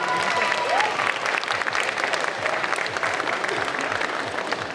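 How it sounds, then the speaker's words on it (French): An audience at a Disney concert applauds continuously, a dense patter of many hands clapping at steady strength throughout. "Et on peut l'applaudir."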